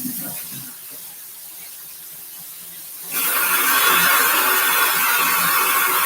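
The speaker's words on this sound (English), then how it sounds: "that noise you hear is just the sound of the water through the faucet at high pressure" A kitchen faucet runs at high pressure, starting as a faint hiss and then abruptly swelling into a loud, steady rushing spray that continues to the end, with no talk.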